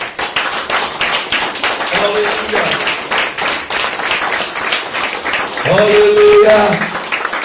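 Church congregation clapping along in rhythm during worship, steady claps running throughout beneath a voice calling out praise, with a brief sung or held tone near the end.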